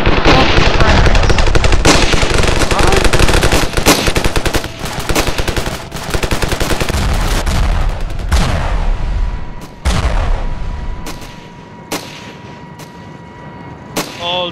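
Frag grenades burst amid heavy automatic gunfire in the video game Ravenfield: dense, loud rattling bursts and booming blasts early on, thinning to sparser isolated shots and a final distant crack near the end.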